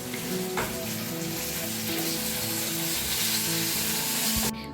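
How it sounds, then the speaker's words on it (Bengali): Okra (bhindi) sizzling in hot oil in a pan on a home kitchen stove, a loud, continuous crackling fry with occasional stirring scrapes, no voices. "দেখো এখানে এখন মা ভেন্ডিটা ভাজছে"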